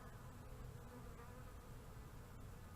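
Scout honeybees buzzing around a top bar hive make a dense, continuous hum that stays level and moderately close throughout, with no talking.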